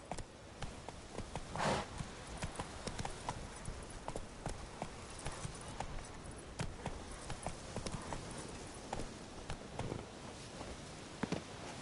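Roach, a horse in The Witcher 3 video game, walks at a slow pace. Hooves clip-clop steadily and close by across the whole stretch, with some faint ambient rustle underneath.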